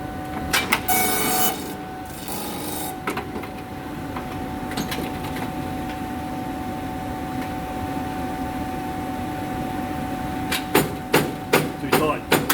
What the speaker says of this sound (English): Milling on.